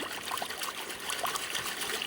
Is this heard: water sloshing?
yes